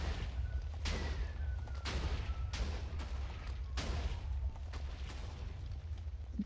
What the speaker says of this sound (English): Oh, it's exploding now.